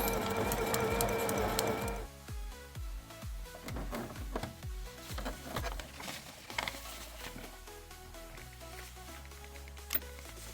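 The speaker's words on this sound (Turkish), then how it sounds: "ayağımızı indirip dikmeye devam ediyoruz" A home sewing machine stitches fabric in a beginner exercise, a rapid mechanical whir at first, then short stop-and-start bursts of stitching with pauses in between, close and fairly quiet, no talking.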